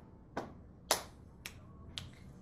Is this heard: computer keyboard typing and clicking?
no